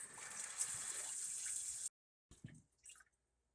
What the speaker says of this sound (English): put some water in the electric kettle